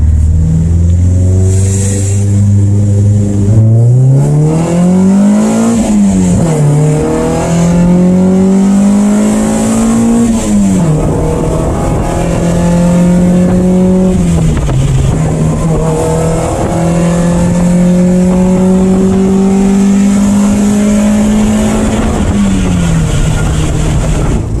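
A Honda Civic with a single-cam D-series engine revs through repeated full-throttle tuning pulls, climbing in pitch through each gear before dropping at the shifts, loud and close from inside the car.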